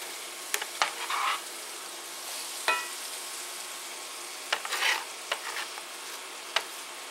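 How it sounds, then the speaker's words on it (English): Onions and apples cooking in a pan with melted fat for pork chops, soft sizzling broken by several sharp scrapes and clatters of stirring, close by with no talking. "And now I'm going to put my onions and my apples in here"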